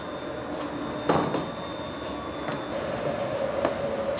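Inside a passenger train carriage on board for a trip to a ballpark, a steady rumbling hum with a faint high whine runs throughout, broken by a few soft knocks and clunks from the car.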